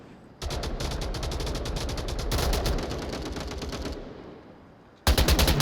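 Long sustained bursts of automatic rifle fire in the Onward VR shooter game rattle loudly and rapidly for several seconds, a brief lull follows, then another loud volley at the end, with no voices over it.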